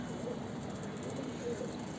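Pet doves or pigeons coo softly in a quiet, steady background murmur of low repeated calls, faint and continuous.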